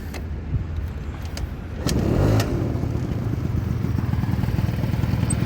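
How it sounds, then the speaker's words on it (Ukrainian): A Honda Gyro X three-wheeled cargo scooter engine is kick-started with a few clattering strokes, then catches and settles into a steady, close running drone. "Перевіримо, як заводиться з кікстартера"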